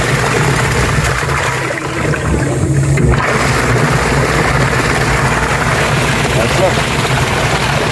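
A washing machine running after a new gearbox was fitted, a loud continuous churning rumble with a brief dip midway, steady and close throughout.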